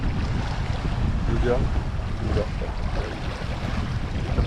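A sailboat leaves its anchorage off Plage d'Argent. Steady wind and sea noise rush over the microphone, with a low hull and water wash throughout and a brief voice partway through.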